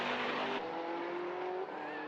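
GT race car at the Barcelona circuit passing on track, a loud sustained engine drone that drops in pitch as it goes by, with commentary-style voices under the engine noise.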